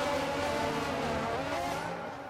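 Tyres skid through a big slide in the F1 22 racing game, a loud sustained squealing screech over engine noise that eases off near the end.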